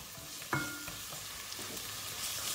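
Peppers drop into a pan of fried onions and sizzle steadily, with a soft thud at the start followed by a continuous close, moderate frying hiss.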